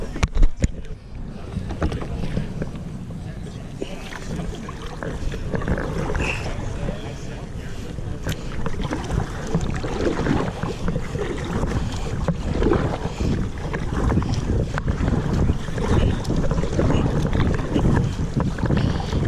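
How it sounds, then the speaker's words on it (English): Someone paddles a NuCanoe Flint fishing kayak on open water, with soft splashing strokes under steady wind buffeting the microphone as someone talks. "now I'm gonna take it out of the paddle holder and go paddle it with this paddle holder"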